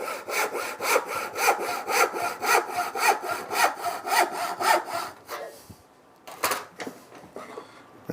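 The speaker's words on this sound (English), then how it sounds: "This is a rip saw" A hand rip saw cuts through wood with about a dozen regular, rhythmic push strokes, each a raspy bright scrape, then pauses and adds a couple of final strokes, close and clear with no talking.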